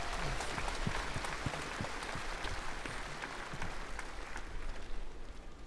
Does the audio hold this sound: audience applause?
yes